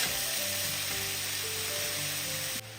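Cut cabbage sizzling and being stirred in a hot pan for an iftar snack: a loud, steady frying hiss runs throughout with soft background music, then drops away abruptly near the end.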